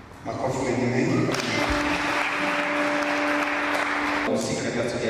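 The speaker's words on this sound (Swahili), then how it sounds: "Makofi mengi." Loud, sustained applause from a crowd at a regional youth leaders' event, with a steady wash of clapping that starts abruptly and continues over a background of music and voices.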